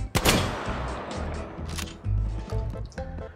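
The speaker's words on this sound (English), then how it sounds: "we'll go and shoot that metal target over there." A shotgun loaded with double-aught buckshot fires in the H3VR virtual reality game at a metal target, giving a sharp loud blast followed by several quicker metallic snaps and clicks.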